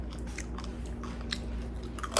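Someone bites and chews an air-fried bowtie pasta cheese chip dipped in pasta sauce, giving close, repeated crunches with irregular chewing rhythm and no talk.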